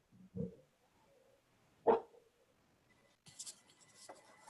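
A few sharp dog barks ring out one at a time with pauses between, followed by a faint whimper and some rustling in a quiet room.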